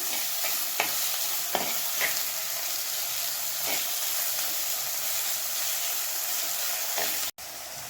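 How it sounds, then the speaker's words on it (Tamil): Onions sautéing in a pan for Tamil-style chicken curry give a steady, close sizzle, with a few soft scrapes of stirring breaking through the continuous frying hiss. "கொஞ்சம் வெங்காயம் நல்லா வதங்கட்டும்."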